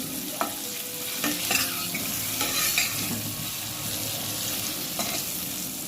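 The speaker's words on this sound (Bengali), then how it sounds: "আলু আমার ভাজা হয়ে গেছে" Potatoes frying with turmeric in a pan for chicken kosha, a steady low sizzle broken by a few sharp scrapes and knocks of stirring, with no voices.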